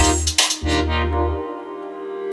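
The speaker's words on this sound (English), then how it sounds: "That kind of like ambient sound rather than the actual synth sound." Washed-out ambient synth pad with heavy reverb and the lows and highs cut away, with a few punchy low hits early on, then a smeared midrange wash that slowly fades, alone without talk.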